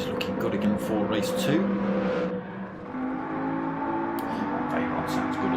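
A Bugatti Veyron races in a Gran Turismo-style event at Sainte Croix and Watkins Glen, its engine droning and shifting pitch under continuous commentary, easing briefly before rising again.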